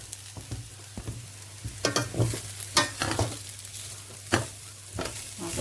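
Chicken with moghrabieh sizzles in a pan while being stirred, with irregular scraping and clattering strokes over a steady frying hiss and a low hum, close and fairly loud, no talking.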